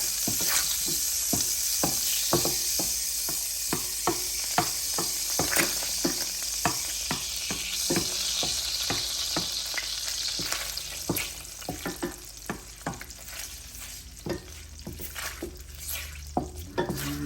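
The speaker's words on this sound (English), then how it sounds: "So you want to melt your butter." Butter melts and sizzles in a pan for fried jerk chicken wings, a continuous bright frying hiss broken by many rapid clicks and taps of a utensil, with no voices.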